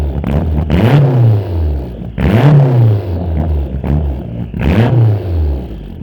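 A Ford Fiesta RS1800 with a custom stainless turbo-back exhaust revs hard in three loud, close bursts, each engine blip rising then falling away, with no voices.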